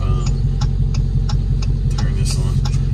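Supercharged engine of a 2023 Dodge Challenger Hellcat Redeye Widebody running steady and loud, a deep idling rumble with faint ticking on top.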